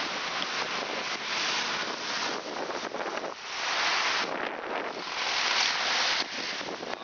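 Strong ocean wind gusts roar across the microphone at a beach park near Lahaina, Maui, with surf churning underneath, a loud steady rush rising and falling over several seconds and no voices.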